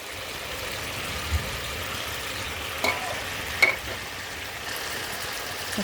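Spices sizzling and frying in a pan for an Assamese fish curry with jika and potato, a steady bright hiss with a few stirring scrapes and pops, close and continuous.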